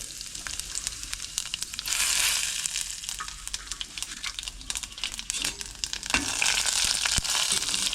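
Fennel seeds, cumin and dried red chillies crackle and sizzle in hot oil, a steady frying hiss with sharper pops and a louder surge partway through, no voices.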